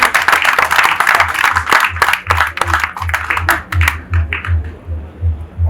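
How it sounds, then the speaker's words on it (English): Audience applause after a speech at a gathering with traditional rulers, a burst of dense clapping that thins to scattered claps, with a steady low hum underneath and no talk. "I think Britain deserves a resounding round of applause for that one."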